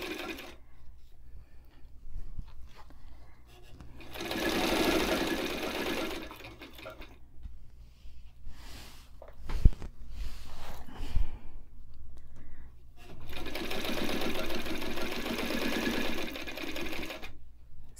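A White 173 sewing machine stitches in two sustained runs separated by a pause with a few clicks and small handling sounds, its motor hum smooth and fairly quiet with no talking.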